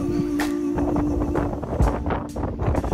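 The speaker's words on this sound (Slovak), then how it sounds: "pre silný vietor nevyštartujeme" Strong wind buffets the microphone on the Sardinian coast within sight of La Maddalena, a steady gusty roar with a low hum beneath it and no talk.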